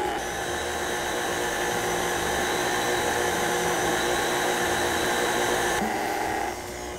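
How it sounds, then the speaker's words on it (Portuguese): An electric mixer beats cupcake batter with a steady, loud whirring drone that holds evenly for several seconds and then drops in pitch as it winds down, with no talking over it. "vamos colocar aqui na nossa batedeira. E vamos bater,"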